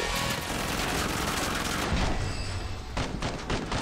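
Dense, loud gunfire from the video game Killing Floor 2 runs through the whole clip, with rapid overlapping shots and booms making a continuous barrage.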